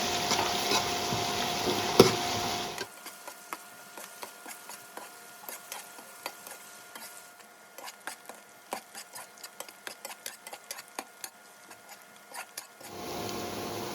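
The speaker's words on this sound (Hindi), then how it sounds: "प्याज जो है इसको भी हम अच्छे से फ्राई कर लेंगे इस तेल में ज़ीरा के साथ" Onions frying in oil with cumin seeds in a pan, giving a steady soft sizzle with scattered crackles and pops, plus a brief louder stir or scrape at the start and end.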